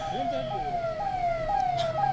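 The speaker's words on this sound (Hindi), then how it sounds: "सायरन की आवाज आ रही है" Wailing siren from a chief minister's convoy arriving at an airport, a clear rising-and-falling electronic tone repeating several times, moderately near, over low road noise and faint background voices.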